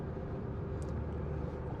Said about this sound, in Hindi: टायर्स की वजह से गाड़ी के अंदर रोड नॉइज़ है।